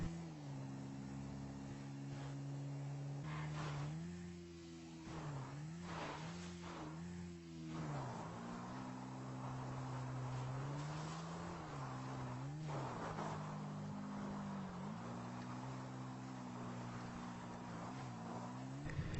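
Motorcycle ridden through hilly terrain in Grand Theft Auto 5, its engine note droning steadily and rising and dipping in pitch as the rider shifts and revs, with a few brief skid-like bursts along the way.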